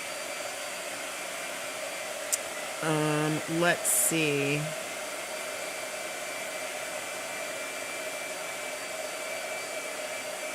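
A blow dryer runs steadily in the background of a painting session, a constant whir that holds throughout, with a few brief tones and a short spoken word partway through.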